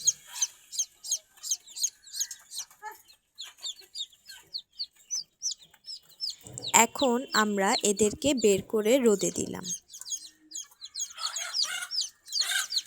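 Desi hens and their chicks, moved out into winter sunshine, cluck and peep in a steady scatter of short calls, with a louder burst of hen clucking midway; someone talks over them at the start.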